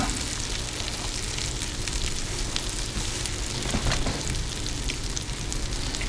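Sausages brown in a hot pan with a steady, dense, crackling sizzle that stays loud and close throughout, without talk.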